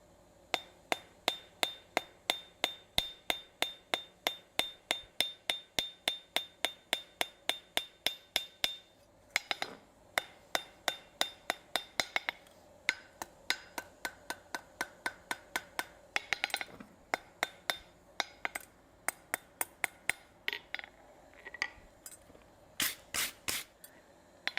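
Hammer forging an iron finial on an anvil, drawing out a small leaf bud: a long run of rapid, evenly spaced ringing metallic blows, then a pause and more irregular strikes, close and loud.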